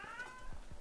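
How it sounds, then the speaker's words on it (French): A house cat meowing once, a short rising-and-falling cry heard faintly in a quiet room, with a couple of soft low thumps after it. "c'est mon chat qui parle"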